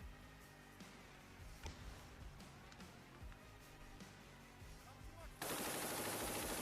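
Gunfire in Ukraine combat footage: dense, continuous crackle of rapid shots at steady loudness, with a sharper louder report near the middle, then a harsh broadband burst that fills the last second.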